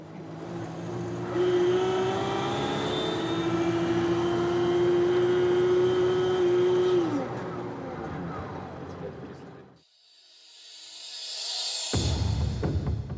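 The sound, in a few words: car engine with compressor engaged via pedal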